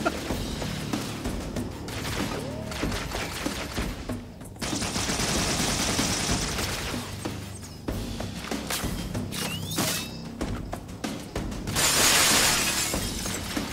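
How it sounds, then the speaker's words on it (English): Gunfire in Halo Anniversary on Legendary difficulty, with rapid loud bursts of shots and several bright shattering glass crashes as a window is shot through, one near the end especially sharp, no talking. "he's shooting me through the window"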